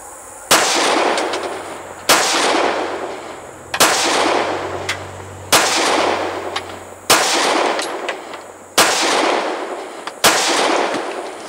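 Seven sharp, loud pistol shots from a Kel-Tec PF9 firing Remington hollow point rounds, spaced about one and a half seconds apart in a steady rhythm, each with a short ringing decay and no talking.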